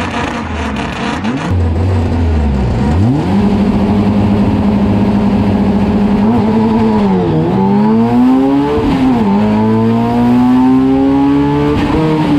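A coal truck's engine revving hard while it races laps, a loud, continuous engine roar that climbs and dips in pitch through repeated gear changes and accelerations, close and steady, with no talk.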